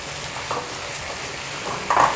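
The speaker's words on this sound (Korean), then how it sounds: "국물이 줄어들 때까지 좀 많이 볶아주세요" Dried radish is stir-fried in a pan while its broth cooks down, making a low steady sizzle with occasional stirring scrapes and a louder clatter near the end.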